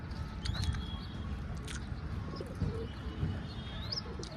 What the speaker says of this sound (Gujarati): જો બધા કબૂતર ઘઉં ખાઈ છે